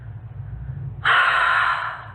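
A singer breathes hard during a studio recording: a sudden, close, breathy rush of air that starts midway and holds steady to the end, with no talking.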